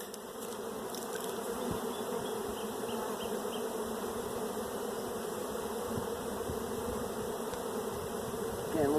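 Honeybees buzzing around an open hive during an inspection before splits, a steady, dense drone close by with individual bees flitting past, no talk.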